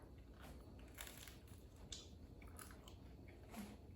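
Close, quiet bites and steady crunchy chewing of a toasted homemade bagel, with several distinct bites among continuous mastication and no talking.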